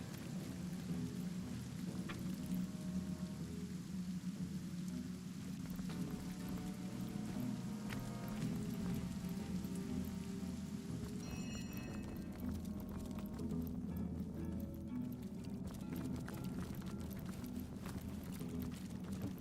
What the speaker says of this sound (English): Has to rain to get that fire out of the way. Water, rain down.